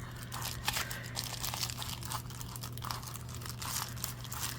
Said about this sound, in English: these scissors don't want to go through here